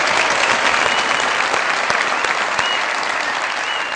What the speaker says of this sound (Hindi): बहुत सारी तालियां शादी के लिए।